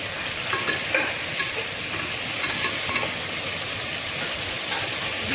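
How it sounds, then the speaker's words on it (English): Diced tomatoes sizzle and fry in a pan for chicken biryani, a steady close hiss of hot oil with scattered scraping stirs, no talking. "stir it well."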